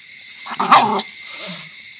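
A dog gives a short, snarling bark during a fight with another dog, one loud burst followed by a softer growl, close by against a steady high background hiss.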